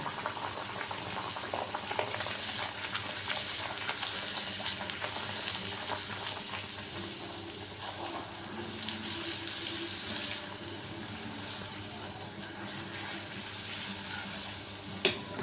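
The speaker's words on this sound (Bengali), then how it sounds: "তেলটা গরম হয়ে গেছে এবার আমি একটা একটা করে ভেজে নেব" Luchi deep-frying in hot oil in a kadai, a continuous bubbling sizzle that holds steady throughout, with faint stirring clicks and no talking.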